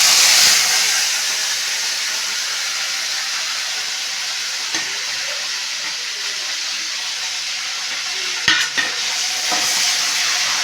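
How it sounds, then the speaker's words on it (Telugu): Dried prawns dropped into well-heated oil in a pan, giving a loud hiss that settles into a steady close sizzle, with a few sharp clinks of stirring near the end. "అలాగే ఇప్పుడు ఎండు రొయ్యలు అనేవి వేసేసుకుందామండి."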